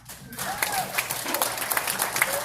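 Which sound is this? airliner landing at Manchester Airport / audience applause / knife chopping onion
audience applause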